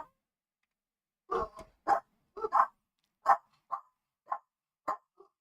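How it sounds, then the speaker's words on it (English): Pet dogs barking at neighbors walking a dog past the house, a run of about eight separate sharp barks, fairly close, with short pauses between them and no talk. "so naturally our dogs have to bark at everything"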